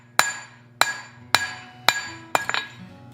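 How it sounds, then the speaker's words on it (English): A blacksmith hammers hot steel on an anvil to draw out a long taper, five sharp ringing blows at an even, unhurried pace, the last followed by a few quick lighter taps, close and clear. "always draw it on a square first, and then you knock the corners off to round it out"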